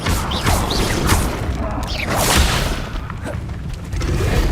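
Incendio fire spell cast in Hogwarts Legacy, a loud, dense burst of crashing, whooshing roar that rolls on continuously with repeated swells and thuds, no voices over it.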